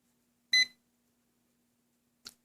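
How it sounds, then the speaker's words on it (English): Two short electronic beeps as a Hubsan X4 H107C drone remote pairs, the first brighter and longer, the second a brief chirp nearly two seconds later, over near silence. "The green light and the beep indicates that it has paired with the unit"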